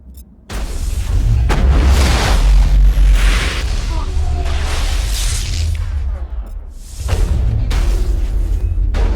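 Sniper and shotgun fire in the sci-fi shooter Mass Effect, loud booming blasts and bursts throughout a busy battle, with heavy low rumble and whooshes.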